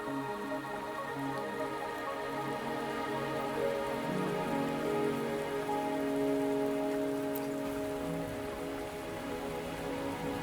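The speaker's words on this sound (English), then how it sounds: "Are you trapped here by the rain?" Steady rain falls without pause in the Wuthering Waves video game, a soft wash of drops under gentle sustained music tones. No one speaks.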